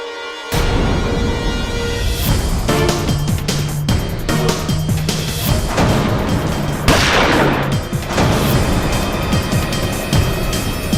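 Gunshots ring out in a tense Indian courtroom TV drama, several sharp loud cracks scattered over about ten seconds among dramatic music hits and rumbling effects, with no speech.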